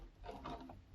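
A Naumann treadle sewing machine runs before cleaning, giving a quiet, steady mechanical whir with soft rhythmic clicking of its gears and linkage for about a second.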